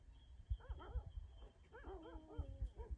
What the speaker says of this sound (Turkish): 5-6 tane köpek var orada